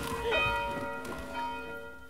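Church bells ringing at a distance, a few sustained tolls with long ringing overtones, moderately loud against quiet background.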